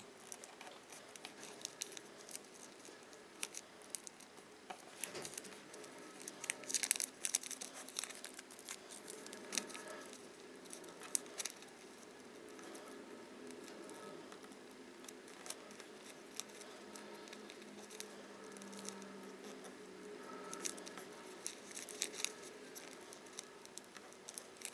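Origami paper being creased and refolded over and over to shape the legs of a 3-D frog: soft, quiet rustles and crisp little crinkles and snaps, steady and close, with no talking.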